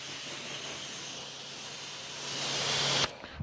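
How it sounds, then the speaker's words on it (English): A spray gun pre-rinsing a car wheel gives a steady, close hissing water spray that swells slightly before cutting off abruptly, followed by a few faint knocks. "You're going to pre-rinse the wheel as normal."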